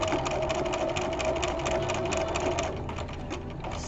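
A sewing machine edge-stitches a fabric pocket bag, its needle mechanism chattering in a fast, even rhythm close by for several seconds before easing slightly near the end.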